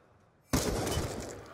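Sudden loud burst of gunfire in a Black Ops 2 multiplayer match, a dense crack of shots landing as rapid triple headshots, then sustained noisy battle sound.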